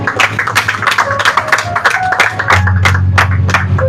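Church congregation clapping in praise, sharp individual hand claps close by in an uneven rhythm, with background music and a low hum running underneath.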